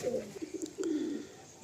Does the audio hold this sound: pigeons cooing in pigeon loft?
yes